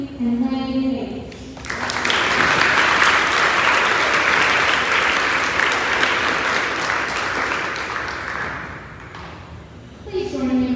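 Sustained applause from an audience for eighth grade starters at a middle school awards ceremony, loud and steady for about seven seconds, with brief talk before and after.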